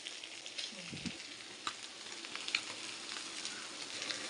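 Paneer pieces sizzle quietly in a pan as their second side browns, a soft continuous crackle with scattered light pops and a brief scrape partway through.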